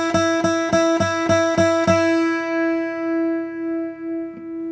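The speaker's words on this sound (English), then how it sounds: "You can play the same note twice." A guitar plucks one note several times in a quick even rhythm, then the final note rings out and slowly fades with a slight wavering, heard up close with no voices.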